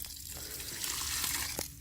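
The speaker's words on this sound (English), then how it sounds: "So what I do is I just dump out the excess water" Excess water dumped out of an RV water filter housing, a soft splashing pour into a sink that swells slightly in the middle, close and fairly quiet.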